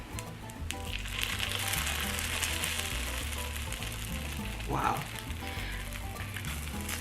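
A steady sizzle of Spanish omelet egg mixture frying in a skillet, continuous and fairly soft, with a person talking over it throughout.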